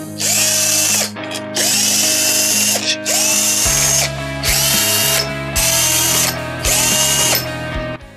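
Power tools and an impact wrench work on the engine casing of a Booster Spirit scooter, giving five loud bursts of whirring and ratcheting with brief pauses between them, close and clear.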